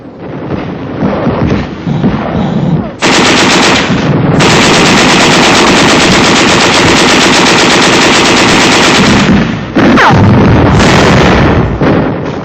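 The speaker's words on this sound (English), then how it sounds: "There is some machine gun fire and occasional shells, but little concerted resistance." Sustained machine gun fire and shell bursts from 1945 wartime combat footage roar loudly and almost without a break, with heavy rattling bursts and booming impacts crowding the whole clip.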